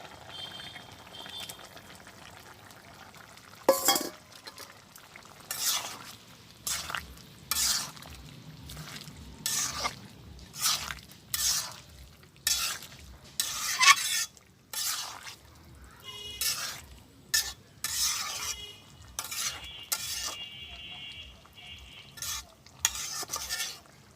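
Prawns fry in a pan with jackfruit and are stirred in quick, regular scraping strokes that repeat throughout. A soft sizzle runs underneath, close and fairly loud, with no talking.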